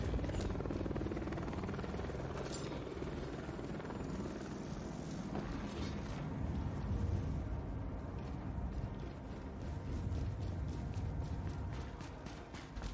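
Helicopter in the video game The Division, a continuous whirring rotor drone with a low mechanical rumble, steady and moderately faint across the whole stretch.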